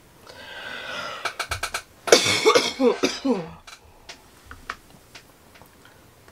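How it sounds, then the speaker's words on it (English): Several harsh coughs in a quick cluster, close and loud, followed by a few fainter coughs and throat sounds amid quiet ticking. "I'm still coughing like a fiend"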